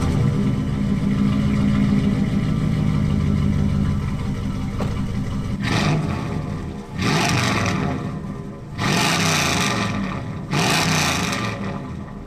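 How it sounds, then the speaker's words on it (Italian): A V8 engine on a six-wheeled 4x4 vehicle idles, then roars through four loud, close revs that rise and fall in turn, with no talk. "E ora passiamo all'accensione di questo magnifico V8."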